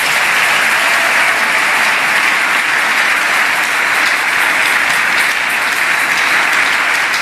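A church congregation applauding and cheering during a French-language sermon, steady loud clapping from a large crowd sustained without a break.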